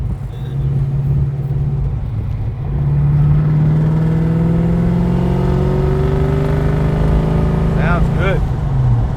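A 1993 Ford Mustang with a 363 V8 and six-speed manual accelerates hard, its engine note climbing steadily through a gear with a loud, close rumble and a brief shift near the end.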